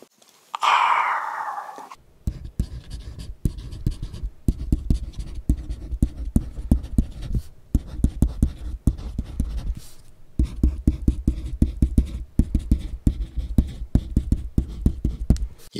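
A stylus scratches across a reMarkable 2 e-ink tablet screen in quick strokes, pausing briefly between bursts of writing, close and fairly quiet.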